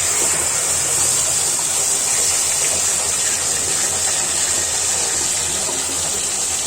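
Rohu fish roe dropped into hot oil with five-spice fries in a pan, a loud, steady, dense hiss and sizzle that fills the whole stretch without pause.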